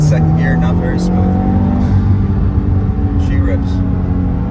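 A Subaru WRX with a six-speed manual accelerates hard, its engine droning steadily and climbing in pitch from inside the car, with a voice speaking briefly over it.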